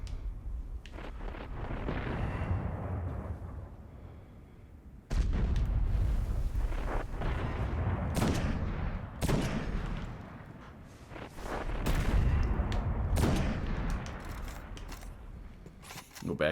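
Heavy booming blasts from the boss Cerberus Vae III in a Destiny Nightfall game, repeated bursts and gunfire rising and falling over about sixteen seconds, fairly loud and close.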